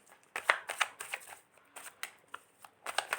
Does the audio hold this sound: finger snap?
no